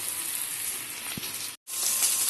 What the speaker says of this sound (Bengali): এখন আর একটু কষিয়ে তারপরে জল দিয়ে দেবো